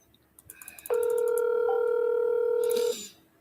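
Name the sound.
telephone call dialing and ringing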